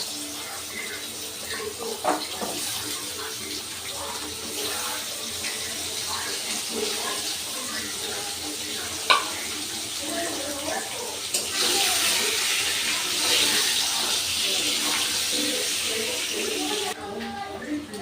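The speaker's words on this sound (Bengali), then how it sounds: "এবার আমি আলুগুলোর সাথে ডাঁটাগুলো দিয়েও একটু ভেজে নেব।" Potatoes and red amaranth stalks frying in a pan give a steady, soft hiss and sizzle throughout, with occasional light clinks, at moderate volume.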